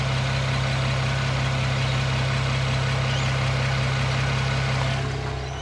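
A BMW 335i with an N54 engine, its wastegate default position adjusted, runs at a steady idle: a loud, continuous low drone with a firm hum that holds unchanged throughout, with no talking.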